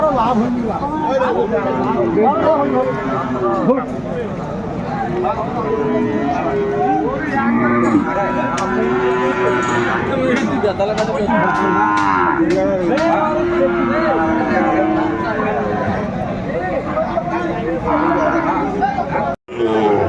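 Cattle moo repeatedly at a Chattogram cattle market selling Sahiwal bulls, amid a busy crowd of chatter and bargaining voices, the lowing calls rising over steady background babble.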